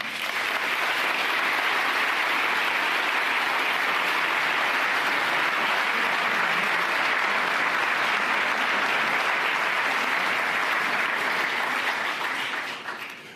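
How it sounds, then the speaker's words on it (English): Warm, sustained applause from a large conference audience welcoming President Macron of France at the Munich Security Conference, a dense steady roar of clapping that holds loud for over twelve seconds, then begins to fade. "I would hope that you will all give President Macron a warm applause of welcome."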